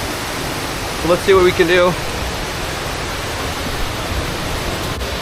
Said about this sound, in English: There's a huge waterfall down there.